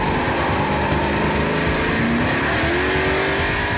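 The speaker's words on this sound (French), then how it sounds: "La mise en vitesse est saisissante, à peine plus de 5 secondes pour atteindre 100 km/h" A Porsche Cayenne Turbo with a factory engine kit raising it to 500 horsepower accelerates hard, its engine roaring loud and close with rising pitch through the gears, heard alone without talk.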